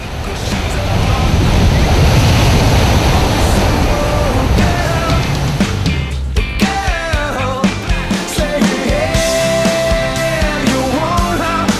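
Rough surf rolls in at Bondi Beach in Sydney, a loud windy roar of breaking waves that fades midway into a busier mix of beach sounds with other tonal noises.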